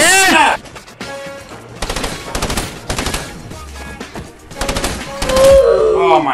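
Bursts of tactical assault rifle fire in a first-person shooter game, several rapid loud volleys with short pauses, while a player shouts and talks over the shooting.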